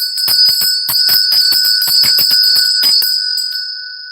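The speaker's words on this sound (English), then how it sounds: "ringing bells is one of the solstice traditions" Small bells ring in a rapid, steady jingling run for a winter solstice tradition, bright and close, then stop, with no voices.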